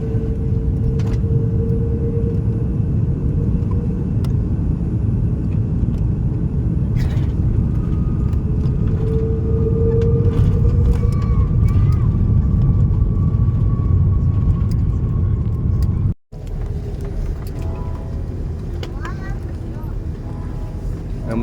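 An airliner landing at Sydney Airport with air brakes deployed roars steadily inside the cabin, a continuous low rumble and whine with a brief dropout late on.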